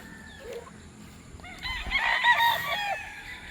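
A tethered rooster crows once at moderate distance, a single loud, drawn-out call rising over quiet outdoor background noise.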